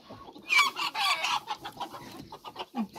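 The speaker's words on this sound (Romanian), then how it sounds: "Și aici sunt găinuțele." Hens clucking in a busy, overlapping chorus in a backyard coop in Sibiu, Romania, loudest early on, then scattered single clucks close by.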